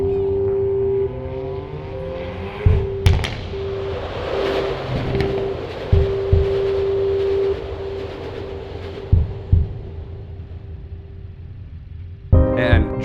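A Hyundai Veloster N is driven hard and braked hard, with a steady turbocharged engine drone and a sustained whine, cut by several sharp thumps and clunks.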